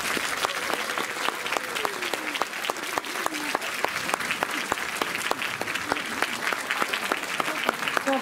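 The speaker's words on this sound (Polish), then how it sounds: "Naprawdę jeszcze raz wielkie brawa się Wam." Warm, sustained applause from a school audience at a Polish school event in London, with dense, even clapping and a few distinct sharp claps standing out near the listener, plus faint voices underneath.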